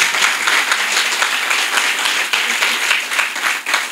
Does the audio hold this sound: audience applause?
yes